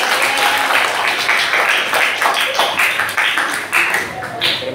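A classroom of students applauds a presenting group, a dense burst of clapping that stays steady for several seconds and thins toward the end, with a few voices mixed in.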